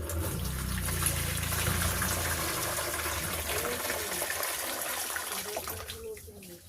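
Thick batter poured over cauliflower, a gushing wet pour that gradually thins and fades toward the end, heard close with no talk.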